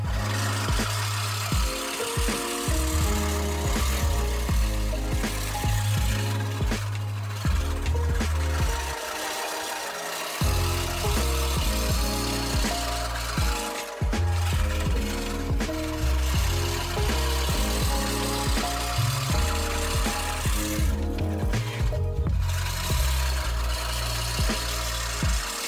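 Budget lawn mower bought cheaply off Amazon, run with its grass box removed, giving a loud, steady motor drone that holds for the whole stretch, with a short dip in the middle and no talking.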